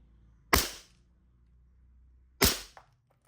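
An E&C G34 airsoft pistol fires BBs: two sharp, close cracks about two seconds apart against a quiet background.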